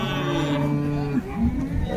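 A pregnant Holstein Friesian cow at a cattle market in Baramati lets out a long, low moo at close range, followed by a shorter second call.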